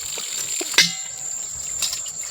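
Cold natural spring water runs from a pipe outdoors near Shimla, a soft, steady trickle with a couple of brief splashy spurts and a faint thin tone underneath.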